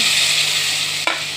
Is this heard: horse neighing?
no